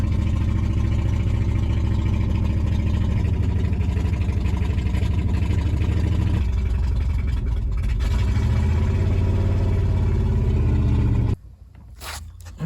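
A Chevrolet Camaro barn find idles after a valve cover gasket replacement, a rough, steady engine drone that shifts partway through and then abruptly cuts out, leaving near silence broken by a faint clatter.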